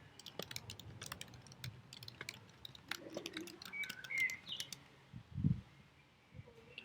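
A computer keyboard being typed on in quick, irregular bursts of faint clicks, quiet and close. Occasional bird chirps sound in the background.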